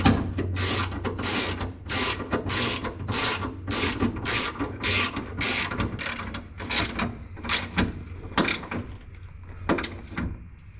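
A ratchet tightens bolts on a Spec Miata race exhaust, giving quick repeated clicking bursts in a steady rhythm, close and clear, with short pauses between strokes.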